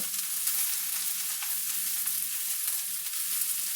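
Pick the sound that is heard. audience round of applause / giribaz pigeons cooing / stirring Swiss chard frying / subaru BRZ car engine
stirring Swiss chard frying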